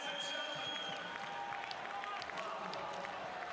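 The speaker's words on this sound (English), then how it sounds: "Well, a round of applause from everybody." Crowd in a volleyball arena applauding after a long rally in a men's international match between France and the United States, a steady wash of clapping with a commentator talking over it.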